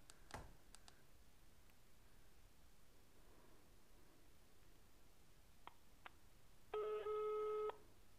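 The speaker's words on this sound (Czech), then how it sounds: "To volá." Telephone ringback tone while calling the Lidl customer line, a faint quiet line with a few clicks before one clear ring burst near the end.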